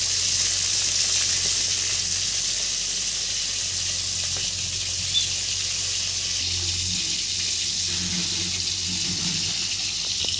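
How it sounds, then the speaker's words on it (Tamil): Fish pieces frying in hot oil for an Odisha-style fish curry, a steady, close hiss of sizzling that runs continuously with faint clinks and low kitchen noise underneath. "மீன் வந்து நல்லா ஃப்ரை ஆகிட்டு அதுக்கப்புறமா நம்ம வந்து எடுத்துக்கலாம்."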